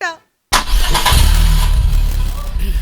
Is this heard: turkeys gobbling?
no